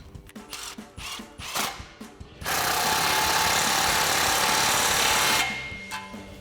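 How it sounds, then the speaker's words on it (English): A loud steady power-tool burst of about three seconds tightening an exhaust clamp with a 15mm socket on a Jeep Gladiator JT Flowmaster tailpipe, set between quicker rattling ratchet-like bursts. "then we can tighten that down with a 15mm socket"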